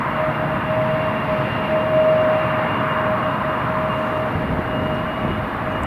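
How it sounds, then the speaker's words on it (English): A Lufthansa CityLine Bombardier CRJ 900 at Newcastle Airport gives a steady, loud engine roar with a thin sustained whine riding on top, continuous and unbroken with no voices. "Bombardier CRJ 900. Lufthansa City Line."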